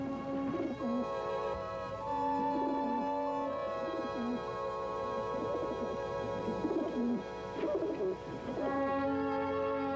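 Pigeons coo in soft, repeated rolling calls that come and go over a steady, droning background tone, fairly quiet and unaccompanied by voices.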